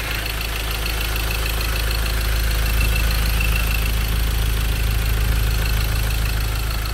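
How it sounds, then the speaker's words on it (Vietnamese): A black Ford Ranger XLS 2017 diesel engine idles steadily and smoothly, a continuous low rumble with a fine even mechanical patter, close and alone with no talk. "đây là tiếng động cơ đang hoạt động đây, máy chạy khá là êm."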